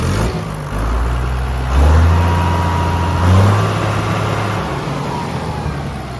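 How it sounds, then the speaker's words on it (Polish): A Case IH International tractor engine, one of the 955, 956 XL, 1056 XL or 1455 XL models, runs at a steady idle close by, with two brief swells in revs. "Silnik bardzo ładnie pracuje."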